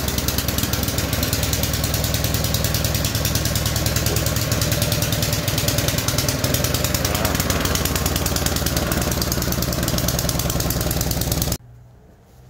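A Troy-Bilt gas two-stage snow blower runs with a loud, steady, close engine roar for about eleven seconds, then cuts off abruptly to quiet.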